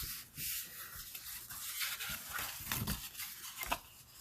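A paper card fold is burnished by rubbing a tool firmly along the crease, producing close, steady scraping and rubbing strokes in a continuous uneven rhythm, fairly quiet and alone.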